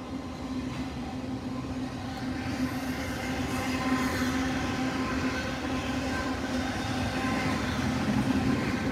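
Norfolk Southern freight train passing eastbound, a continuous rolling rumble of rail cars with faint clickety-clack, moderately distant and steady with no talk.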